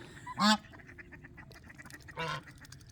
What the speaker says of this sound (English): Do you hear the ducks? They're chattering over there.